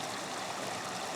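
Steady, close wash of stream water trickling through a narrow gap in a leaf-dammed channel on an autumn hike, a constant rushing hiss with no voices.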